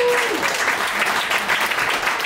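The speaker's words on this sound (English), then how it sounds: "all of the volunteers working at Monty Hall deserve an extra round of applause for staying." Audience applause for the volunteers working at Monty Hall, a dense, steady wash of many hands clapping close and fairly loud, with no clear voices over it.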